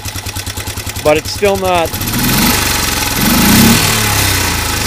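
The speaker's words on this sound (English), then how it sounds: "I got it idling now after warming it up a bit" Warmed-up engine idling with a rough, pulsing low rumble, then rising into a steadier louder drone as it revs; someone talks over the start.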